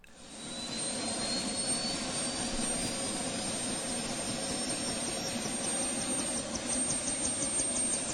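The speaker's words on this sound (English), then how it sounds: "that's the helicopter getting ready to take off here" A steady, loud turbine whine with a rising high-pitched tone, a helicopter engine spooling up continuously without any voices.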